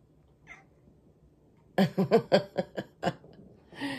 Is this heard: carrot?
no